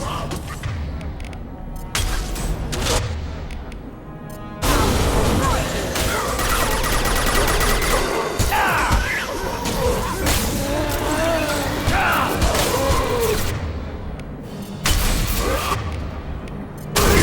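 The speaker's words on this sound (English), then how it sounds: "That was the abomination exploding" An abomination monster bursts apart in Mass Effect 2 amid loud, chaotic combat, with crashing blasts and rapid gunfire filling the scene and voices talking over the action.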